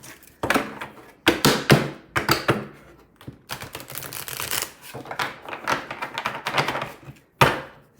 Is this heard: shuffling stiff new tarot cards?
yes